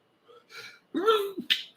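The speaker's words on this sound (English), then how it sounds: "Oh, I ate so much I'm sneezing." A person who has eaten a lot, at a hot dog eating contest, gives a short wheezy intake of breath followed by a sharp, close sneeze and a brief exhale.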